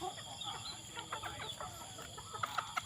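White bantam chickens cluck in short repeated calls over a steady farmyard background hum, with a few louder clucks near the end.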